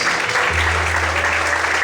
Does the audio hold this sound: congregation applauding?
yes